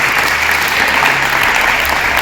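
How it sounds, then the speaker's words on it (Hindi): Sustained applause from an assembled audience at a school International Women's Day event in India, loud and dense, a continuous wash of many hands clapping with no voices on top. "तालियों से एक बार पुनः आपका स्वागत करें।"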